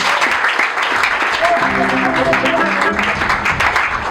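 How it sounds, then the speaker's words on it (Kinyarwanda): Congregational applause during a church service, a steady wash of clapping running throughout, with a voice and sustained music-like tones mixed in beneath it. "Komera Imana yacu amashyi."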